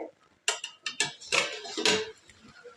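Metal lid lifted off a pot of spicy crab curry made with river crabs, giving a few sharp clanks and scrapes of metal on metal followed by a brief clatter, close and fairly quiet.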